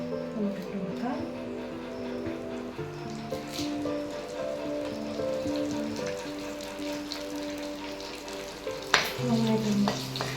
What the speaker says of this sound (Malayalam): പച്ചമുളക്, കുറച്ച് കറിവേപ്പിലയും കൂടെ നമുക്ക് ഇട്ട് കൊടുക്കാം.